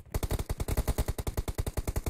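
Rapid, steady automatic gunfire from a 2v2 team deathmatch shooter video game, a fast even burst of about twenty loud shots in two seconds with no voices.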